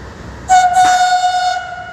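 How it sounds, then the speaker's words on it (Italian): A single long train horn blast sounds out at Viareggio station, steady and loud for about a second before fading. "I lunghi fischi di ogni treno che oggi entrava nella stazione di Viareggio"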